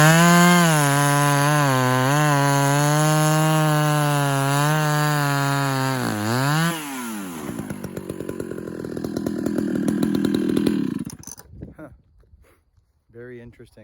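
A ported Husqvarna 2100 chainsaw fitted with a Stihl bar runs loud and close, holding a steady high whine with small revs, then dropping to a rough idle and shutting off.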